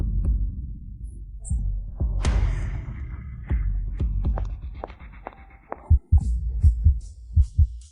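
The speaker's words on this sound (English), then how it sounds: "Why is my heart beating so fast?" Heartbeat sound effect thumps in a series of deep, soft pulses, growing into louder, sharper double beats toward the end, with a low hum underneath.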